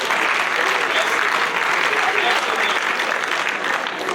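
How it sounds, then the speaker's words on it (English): Students in a Bethel College classroom applaud, a dense, even wash of clapping that holds steady for about four seconds with no talk over it. "All right, give yourself a round of applause."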